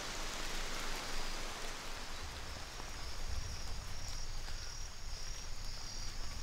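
Heavy rain falls steadily in a tropical forest in a broad hiss with patters on leaves, a faint insect-like whine threading through the background.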